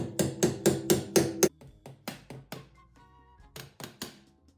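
Metal tabs on a VW Sunbug seat frame are bent back down with a tool, giving a run of five quick, sharp metallic knocks followed by slower, scattered taps and thuds, close and moderately loud, with no talking.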